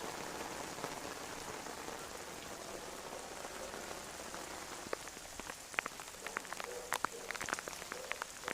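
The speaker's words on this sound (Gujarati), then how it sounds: "ફાઇનલી ગાઈસ વરસાદ આવી ગયો છે અમારા ગામમાં" Steady rain falls over a village, a soft continuous patter with sharper individual drops splashing nearby toward the end; no one speaks.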